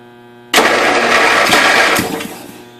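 A 1992 Yard King lawn tractor engine, first start in seven years, catches suddenly after a quiet moment and roars loudly and close, running rough for over a second before easing down.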